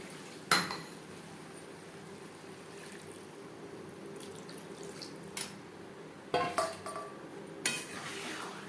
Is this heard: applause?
no